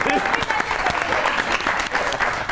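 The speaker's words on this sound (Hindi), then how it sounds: "नादिया हुसैन के लिए ताली होनी चाहिए" A studio audience at a comedy talk show bursts into steady applause, dense clapping from a crowd filling the room at close range, with a voice speaking over it.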